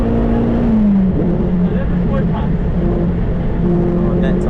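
A 2004-era Honda Civic EP3 Type R on hot laps at Castle Combe circuit drones loudly from inside the cabin, its engine note sliding down then holding steady under wind and road roar, with a voice talking over it.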